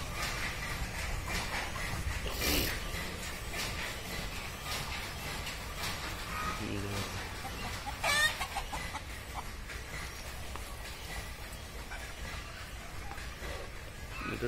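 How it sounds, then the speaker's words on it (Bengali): Chickens cluck and a black rooster calls on a farm, steady fowl chatter running throughout with a sharper burst near the middle, over a constant outdoor background. "এই মুরগিগুলা খুব রাগ অনেক রাগ খালি মারামারি করে এই যে তেলকে কালো মোরগ"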